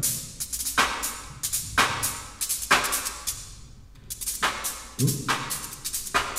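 Rhythmic bursts of harsh, hissy chiptune noise from a Game Boy Advance noise channel pulse in a steady electronic pattern, each burst bright and crisp, with no voices, played live.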